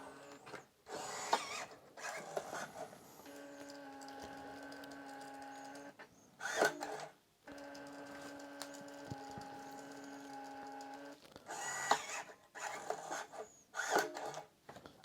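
A label printer works through a print job, with several whirring motor tones in long stretches broken by short scraping, clicking feed noises, heard close in a quiet room.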